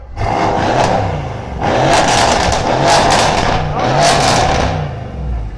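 A Mercedes C63s AMG with a catless downpipe exhaust revs hard in loud, rasping bursts, several rising and falling swells close by with crackle on top and no talk.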